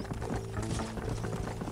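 A horse's hooves gallop at close range in the Red Dead video game, a rapid, loud clip-clop rhythm that runs without a break for the whole moment.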